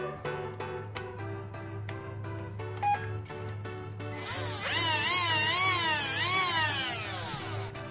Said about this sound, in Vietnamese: Với chiếc máy khoan cầm tay mini này